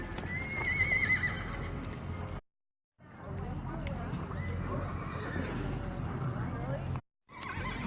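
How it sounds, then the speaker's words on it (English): A gray horse galloping in a rodeo race, its hooves clip-clopping beneath a neigh and an announcer's commentary, briefly cut to silence twice. "Look at that gray horse just working like a boss."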